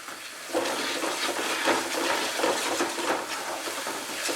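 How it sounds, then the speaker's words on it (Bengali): Masala with Kashmiri chilli powder and a splash of water sizzles and hisses in a pan over medium heat for a cauliflower korma, a steady close frying rush that starts abruptly and continues without talk. "অল্প পরিমাণে জল অ্যাড করব, দিয়ে মশলাটাকে আমি কষিয়ে নেব"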